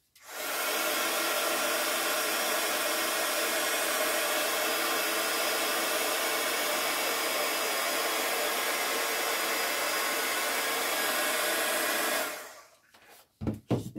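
A heat gun for embossing in card making blows a steady loud broadband whoosh for about twelve seconds, then switches off, leaving a few faint handling clicks and knocks, with no talking.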